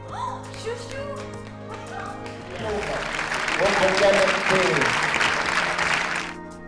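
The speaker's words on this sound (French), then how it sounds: "On va les applaudir." Audience at a film festival awards ceremony breaks into steady, dense applause after some brief talk, the clapping swelling and holding loud through the rest.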